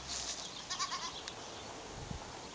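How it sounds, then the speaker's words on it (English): Goats bleat in short, faint calls near an olive grove in Crete, heard from a short distance over a steady outdoor background. "A tarp is set up at Thalassaarna in an olive grove next to some goats over here."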